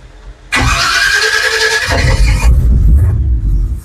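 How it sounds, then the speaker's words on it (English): A NAPA electric on-board air compressor kicks on abruptly and runs loud and close with a steady mechanical drone that shifts to a deeper, heavier rumble after a couple of seconds, with no talking. "we're gonna fire it up now and see how long this NAPA electric compressor takes to get up to"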